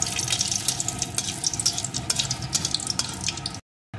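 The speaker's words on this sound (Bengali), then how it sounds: "কালো জিরে, সাথেই দিয়ে দেব একটা শুকনো লঙ্কা। এখন এগুলোকে ভালো করে ভেজে নেব।" Nigella seeds and a dried red chili frying in hot oil in a pan for a Pabda fish curry, giving a steady, close crackling sizzle with scattered pops that cuts off abruptly near the end.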